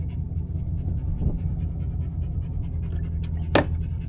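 Dog panting hard after a long, hot desert hike in the Utah backcountry, a steady close rapid breathing rhythm running throughout with a few brief faint knocks and rustles near the end.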